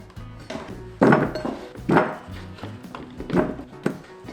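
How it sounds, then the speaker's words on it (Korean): A knife chops vegetables on a cutting board for a tuna and potato stew, giving firm wooden thunks about once a second with lighter taps and clinks in between. "시원하게 썰어 줄게요"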